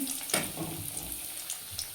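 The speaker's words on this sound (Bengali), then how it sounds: "সেই আলুটাকেই আমি একটু ভাজা করে নিচ্ছি" Potato pieces frying in oil for Bengali style chicken, a steady hissing sizzle with a few soft clinks and stirring sounds, fairly quiet and with no talking.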